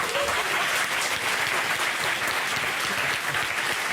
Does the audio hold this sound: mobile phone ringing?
no